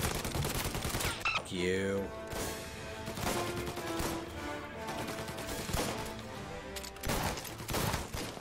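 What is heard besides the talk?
gunfire in video game Mafia Definitive Edition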